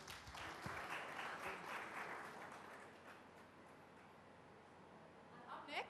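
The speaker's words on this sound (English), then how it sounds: "A round of applause, please." Applause from a conference audience at a sustainability conclave, fairly faint and distant, swelling early then thinning slightly toward the end, with some talk mixed in beneath.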